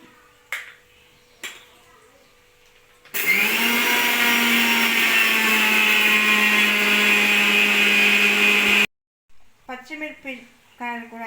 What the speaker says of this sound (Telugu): ఇంకా మనం అంతలోపు ఇవి నూగులు